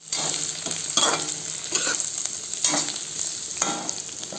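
Onions stir-fried in oil in a pan, for pork with bamboo shoots: a steady close sizzle with periodic scraping stirs about once a second, no talk.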